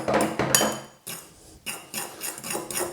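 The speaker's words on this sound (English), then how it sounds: "get a fork, just sort of mix it up a little bit" Fork clinking and scraping against a bowl while mashing deviled egg filling, a series of sharp metallic taps and scrapes in irregular bursts with short pauses between, close and fairly loud.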